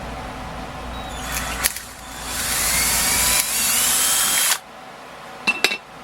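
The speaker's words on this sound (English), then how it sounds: "got one hole drilled" A power drill bores a hole through wood, with a steady high whine that rises in pitch partway through, then cuts off abruptly, followed by a few light clicks and handling taps.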